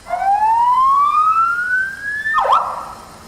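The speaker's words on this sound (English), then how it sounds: "we use a 100-watt Whaler, which is incredibly loud, as you've just heard" A 100-watt Whaler police car siren sounds very loud and close: a rising wail sweeps upward for over two seconds, then cuts sharply into a brief falling and rising yelp before fading.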